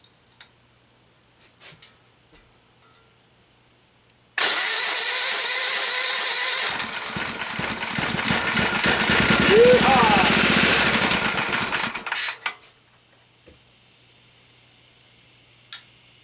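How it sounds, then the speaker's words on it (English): A small engine with a PZ carburetor, its cylinder freshly oiled, cranks and roars loudly to life after quiet clicks, runs roughly with a pulsing rattle for about eight seconds, then cuts out into near silence. "with all the oil I've put down in the cylinder, it's going to be smoky when it starts up"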